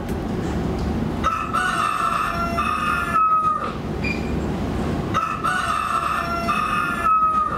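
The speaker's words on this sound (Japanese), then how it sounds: "鶏の鳴き声でした。" A rooster crows several times in a row, each long cock-a-doodle-doo rising and falling, loud and close, with short pauses between calls and faint clucking from fowl in the background.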